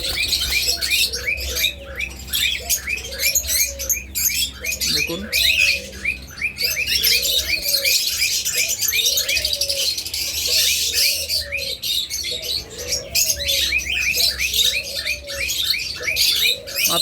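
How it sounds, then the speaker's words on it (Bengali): Big, active pet birds kept in breeding pairs squawk and chirp in rapid repeated bursts, a loud, dense, overlapping chorus that runs without pause throughout. "চমৎকার অ্যাক্টিভ এবং বিগ সাইজের প্রত্যেকটা পাখি"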